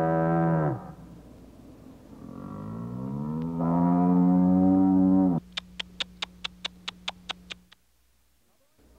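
Cattle moo loudly and close by in two or three long, drawn-out calls that sag in pitch, followed by a run of evenly spaced sharp ticking clicks before the sound drops away.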